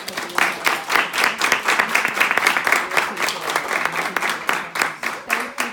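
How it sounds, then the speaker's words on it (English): An audience at an interactive film screening gives warm, sustained applause for Kumo, many hands clapping steadily at a moderate distance for several seconds. "we definitely just want to give Kumo another round of applause"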